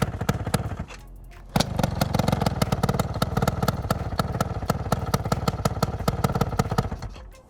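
An Adly motor scooter engine idles with a rapid, steady putter. It dips briefly after the first second, then runs on evenly and close at hand for several seconds.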